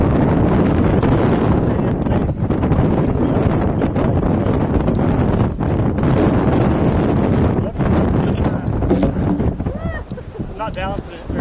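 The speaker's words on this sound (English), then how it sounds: "It's too windy." Strong wind gusting outdoors at a Highland Games reunion, a steady loud rush buffeting the microphone throughout, with faint voices near the end.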